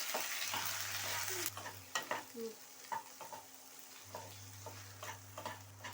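Onion paste masala with garlic paste fries in a pan for a jackfruit and egg dish. A faint sizzle fades after the first moments, leaving quiet scattered spatula scrapes and taps over a low hum.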